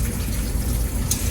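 Cold water rushes steadily into a washing machine drum holding a pair of sneakers, a constant close, hissing gush with a faint brief splash near the end and no voices.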